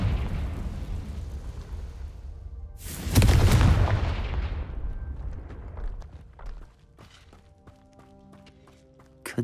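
A Confringo fire spell from Hogwarts Legacy bursts into a loud, close explosion that booms and rumbles, then crackles and fades over several seconds into quieter debris and ambient tones.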